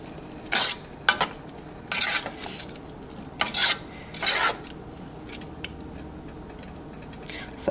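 A spoon stirs peas and rice in a pot, giving several separate scraping, rasping strokes, short and irregular, over a low background hiss.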